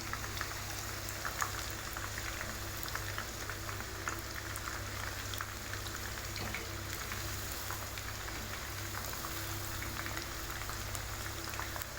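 Chicken 65 deep-fries in a generous amount of oil, making an even, bubbling crackle like rain on a surface. It holds steady throughout, at moderate level and alone, with a low hum underneath.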